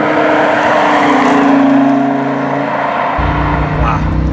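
A 2017 Lamborghini Huracan engine drones loud from inside the cabin at low speed, its pitch steadily climbing before a quick dual-clutch gear shift drops it abruptly into a deeper, throbbing note.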